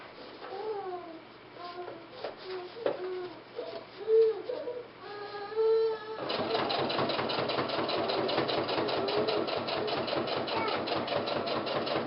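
Sewing machine top stitching a cloth diaper, starting in short bursts with pauses and then settling into a steady, rapid mechanical chatter for the last half.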